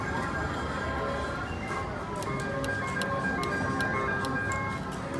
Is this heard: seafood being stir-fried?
no